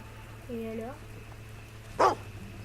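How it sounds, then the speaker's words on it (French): Dog in the video game Fable II gives a short run of yelping barks, then one sharper, louder bark a second later, over a steady low game hum. "Ta gueule, le chien."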